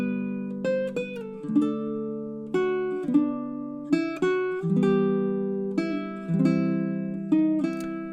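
Baritone ukulele picking the pickup and first three measures of Greensleeves as a chord melody, plucked notes and ringing chords in a gentle triple lilt; close, soft and unaccompanied without speech.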